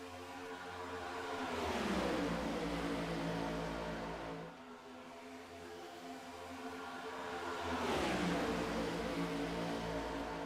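NASCAR Next Gen stock cars roar past at Atlanta Motor Speedway. Two loud engine pass-bys each swell up, then drop in pitch as the cars go by, with a dense roar in between and no talking.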